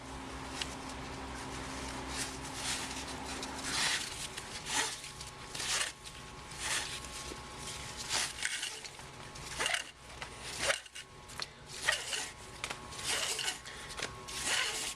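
Exhaust wrap tape on a Yamaha V Star 950 motorcycle pipe is pulled and threaded through, producing close, scratchy rustling and sliding sounds in irregular bursts, fairly quiet, with faint clinks of handling in between.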